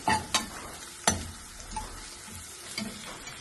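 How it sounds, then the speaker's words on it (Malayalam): Sliced garlic for pepper sausage fries in a pan and gives a soft, continuous sizzle. Stirring adds a few sharp utensil clacks against the pan, heard close and fairly quiet. "രണ്ട് മൂന്ന് വെളുത്തുള്ളി ഒരു ചെറിയ കഷ്ണം ഇട്ട് കൊടുക്കാം."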